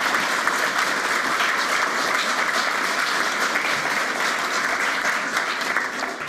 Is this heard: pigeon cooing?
no